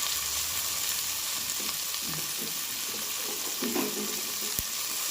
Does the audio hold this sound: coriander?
yes